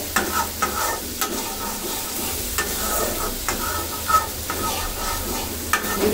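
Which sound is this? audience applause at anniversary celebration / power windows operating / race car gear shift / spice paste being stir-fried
spice paste being stir-fried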